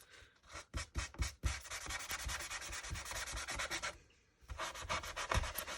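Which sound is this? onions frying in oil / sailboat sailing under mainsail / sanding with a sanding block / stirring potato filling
sanding with a sanding block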